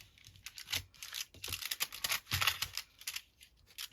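Paper tears in quick, uneven rips as an envelope is pulled open for a window tag with a glassine napkin window, the close, crisp bursts coming in short clusters with brief pauses between them.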